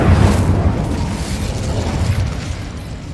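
A loud, sustained fiery blast from the Incendio fire spell in the video game Hogwarts Legacy, with a heavy low rumble that holds steady for about three seconds and eases slightly toward the end, with no talking.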